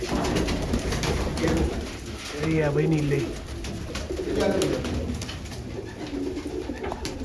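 Pigeons coo in low rounded bursts around a loft, two clear coos rising above steady background noise while someone talks nearby.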